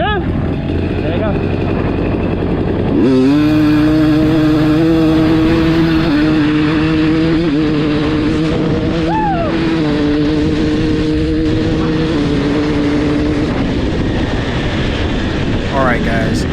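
A 2022 KTM 300 two-stroke dirt bike with a full FMF exhaust runs close by, its loud buzzing engine note holding steady for several seconds with brief pitch rises from throttle blips before dropping back.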